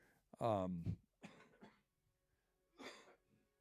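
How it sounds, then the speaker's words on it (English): A few short, rough coughs and throat-clearing bursts, close and fairly loud, separated by brief silences. "I still have a bit of a cough."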